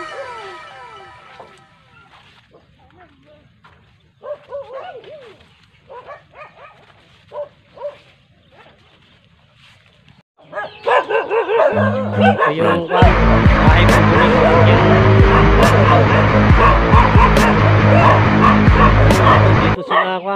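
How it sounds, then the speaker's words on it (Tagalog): Guard dogs at a farm hut bark and yelp in scattered bursts over quiet background, people talk, then a loud steady engine noise drowns most of the rest. "May mga bantay silang mga aso."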